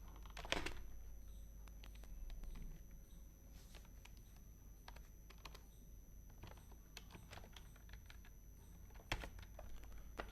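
Steady typing on a computer keyboard while entering poster text, with irregular bursts of key clicks and a few louder strokes, close and fairly quiet over low background hum.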